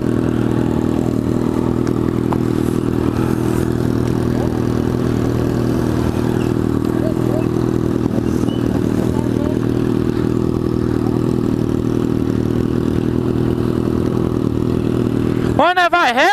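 Kawasaki ZX6 sport motorcycle exhaust rumbling steadily at close range during a night ride with a group, a continuous low engine drone that swells with a brief revving sweep near the end.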